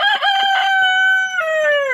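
A rooster crows loudly and close, one long drawn-out cock-a-doodle-doo near a chicken coop built from an IBC tank, with clucking hens around it and no talking.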